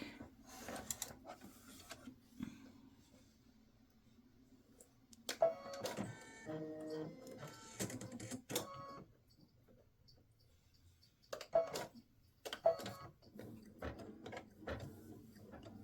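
A home embroidery machine stitches out a word on an embroidered block, its quick mechanical whirring and clicking coming in separate bursts between quiet pauses, with faint low hum beneath.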